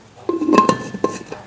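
A stainless steel oil dispenser jar and its steel lid are handled up close, giving a short run of bright metallic clinks and knocks, loud and separate, with no voices.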